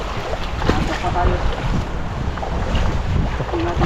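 Strong wind gusts buffet the microphone at sea from a boat near shallow rocks, a rough, roaring broadband rush that rises and falls throughout without a clear break.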